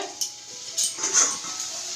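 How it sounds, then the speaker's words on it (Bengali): Vegetables for chowmein frying in a home kitchen pan, with soft sizzling and a few scrapes and knocks of a stirring utensil, close by and with no talk. "সবজি ভাজা হচ্ছে"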